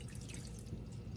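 Chopped vegetables for zucchini relish are poured into a large sieve in a kitchen sink, the liquid draining through in a soft, continuous trickle, faint and close, with no voices.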